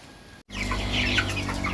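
Young chicks cluck and chirp close by in a steady outdoor murmur in a village yard in spring, following a brief cut of silence at the start.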